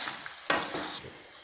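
Chicken with yogurt is stirred in a pan on a low flame, giving a brief close scrape and clatter of a utensil over a soft, continuous sizzle.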